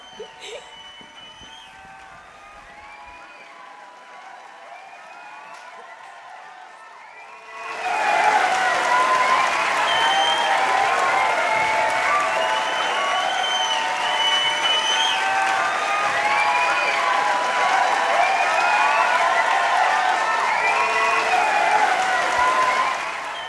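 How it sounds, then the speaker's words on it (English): Theatre audience applause at a Singin' in the Rain stage production bursts in suddenly after a quiet stretch with faint voices, then continues as loud, sustained clapping with scattered cheers, filling the room for over fifteen seconds. "Listen to that applause."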